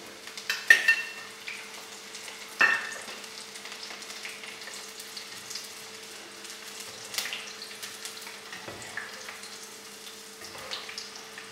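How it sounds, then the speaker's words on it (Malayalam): Crushed garlic frying in hot oil, a steady soft sizzle with a few sharper crackles and stirring clinks near the start, close and fairly quiet throughout. "ചതച്ച വെളുത്തുള്ളി നമുക്ക് എണ്ണയിലിട്ടൊന്ന് കോരിയെടുക്കാം"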